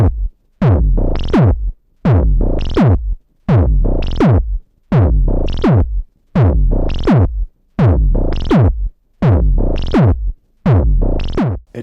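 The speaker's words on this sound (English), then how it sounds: "And then if you hit the Revox even harder," Program audio pushed hard into a Revox tape machine so it distorts, playing as a loud repeating phrase of roughly eight dense, evenly spaced bursts separated by brief silences, with no voice over it.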